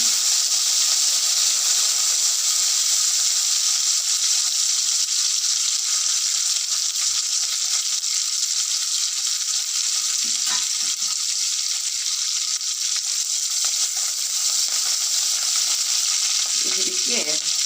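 Green chilli and coriander leaves sizzle in hot oil in a pan for a muddu kadubu tempering, a loud, steady, close frying hiss throughout with a few faint clinks near the end.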